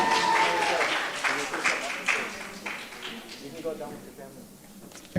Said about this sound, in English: Can I get a round of applause for every contestant?